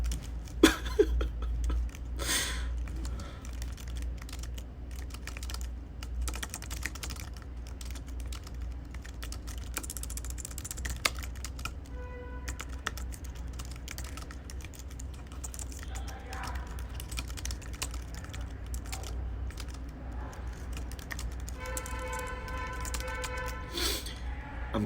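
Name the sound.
typing on a computer keyboard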